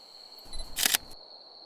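A single sharp camera shutter click from a mobile phone, close and brief, with a faint steady high electronic whine before and after.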